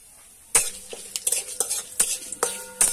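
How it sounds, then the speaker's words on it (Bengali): Bay leaves and cinnamon frying in oil for a vegetarian aloo dum, stirred with repeated sharp utensil scrapes against the pan over a light sizzle, starting abruptly after a quiet moment. "এখানে তেজপাতা দারচিনিগুলো ভেজে নেওয়া হচ্ছে।"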